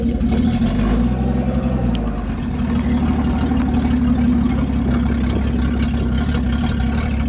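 A Holden HT ute's engine drones as the vehicle drives slowly, a steady loud low rumble that holds constant throughout with no voices over it.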